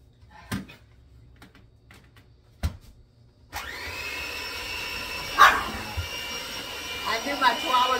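A chihuahua lets out a few sharp yaps in a home kitchen, then an appliance starts whirring loudly and steadily as more barks break through, with a person speaking nearby.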